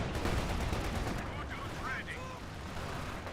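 Video game gunfire, including sniper shots, crackles densely and loudly throughout amid a busy battle mix, with a few faint higher whistling tones rising partway through.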